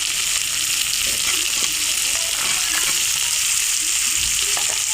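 Chunky jackfruit seeds and onion fry in oil beside a spiced fish head, making a loud, dense, continuous sizzle right up close, with light stirring scrapes and no talking.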